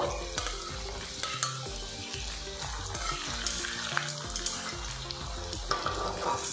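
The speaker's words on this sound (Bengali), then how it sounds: "দুটো ব্যাচে আমি পিঠাগুলো ভাজা করে নেব।" Semolina pitha fry in oil over low to medium heat, giving a steady close crackling sizzle with periodic spatula stirs and light clicks, and no talk.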